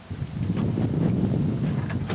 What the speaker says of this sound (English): it's getting really windy and dark and stormy right now